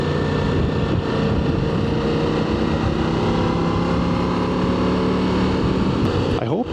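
Steady, loud engine drone and wind rush from a Ducati Multistrada motorcycle riding along a country road, continuous throughout with a slight shift at the very end.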